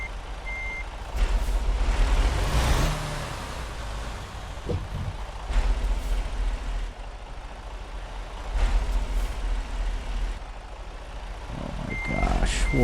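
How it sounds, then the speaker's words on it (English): A truck backing a trailer into place in American Truck Simulator, with repeated reversing beeps over a rumbling diesel engine and occasional air brake hisses. "trying to get this stupid truck in here"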